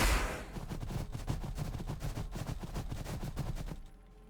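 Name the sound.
plasma guns firing in the video game Warhammer 40,000: Battlesector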